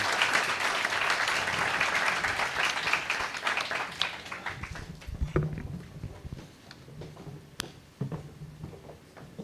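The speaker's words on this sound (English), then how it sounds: "may I have a big round of applause for all 4 of them." Audience applause for four panelists at a Japan–India business conference, dense and full for about four seconds, then thinning into scattered claps that trail off.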